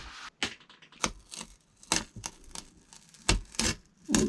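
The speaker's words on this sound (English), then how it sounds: "it's time to take the tape off the FlexSeal" Brown tape peeled off FlexSeal in a van shower makes a series of sharp, close ripping and crackling bursts, irregular and separated by brief pauses, with no talking.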